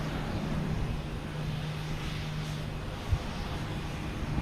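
Swiss Air airliner taking off on runway 9 at Boston Logan, a steady broad engine roar with a low drone, heard from a distance and without voices.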